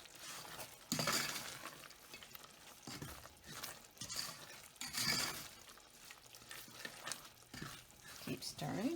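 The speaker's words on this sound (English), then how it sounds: "Keep stirring." Coconut sugar cake mixture stirred in a pot, with scraping and clinking of the spoon against the pot, close, continuous and uneven, heard alongside occasional speech.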